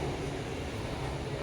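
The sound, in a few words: LRT light rail train arriving at station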